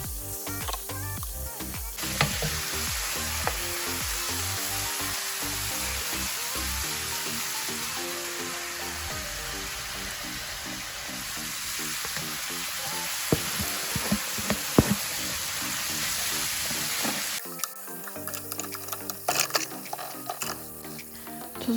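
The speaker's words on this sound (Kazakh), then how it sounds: "Куриный филені осылай маринадтап, сосын қуырдым." Marinated chicken fillet frying in a pan with onion, carrot and garlic, a steady loud sizzle with occasional stirring clatter, giving way near the end to water and clinking sounds.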